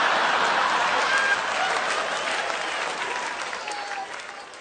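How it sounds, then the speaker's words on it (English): Studio audience applause on a comedy talk show, a dense, steady wash of clapping that holds loud and then slowly tapers toward the end, with no voices over it. "And I get a nice round of applause"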